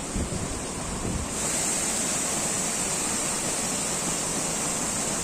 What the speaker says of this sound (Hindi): इधर है भाई, इधर वाटरफॉल।